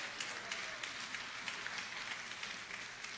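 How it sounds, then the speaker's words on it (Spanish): A church congregation applauding during a Sunday service, steady dense clapping from many hands in a reverberant room, sustained and even throughout at a moderate distance. "Tiene un aplauso a la hermana porque reconoció que tiene pecado"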